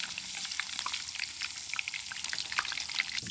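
Tofu puffs stuffed with taro deep frying in oil, giving a steady, dense crackling sizzle with scattered sharp pops throughout, close and continuous with no talking.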